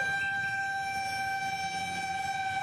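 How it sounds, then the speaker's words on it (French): An ambulance siren wails steadily at a distance after a city earthquake, a sustained tone that holds level throughout with no talk. "Un balai incessant d'ambulances."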